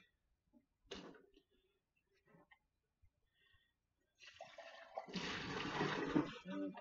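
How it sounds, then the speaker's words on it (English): Hot water pours into a jug during mead making, a steady splashing rush that starts partway through and runs loud to the end, after a few scattered clinks and bumps. "Put a little hot water in there."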